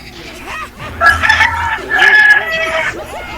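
Native rooster crowing loudly and close by, two long drawn-out crows in succession, with a faint cluck or hen call near the end.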